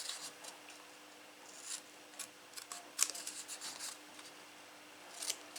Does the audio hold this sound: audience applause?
no